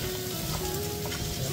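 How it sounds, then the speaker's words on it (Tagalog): Vegetables sautéing in a pan for pancit, a dense, steady crackling sizzle that fills the whole moment, close and continuous with no pauses. "habang nagigisa tayo"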